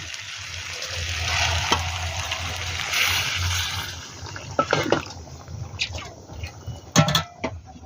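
Hot water pours into a pan of ghugni, a dried-pea curry, with a soft, fairly close splashing trickle for a few seconds, then sharper clinks and splatters.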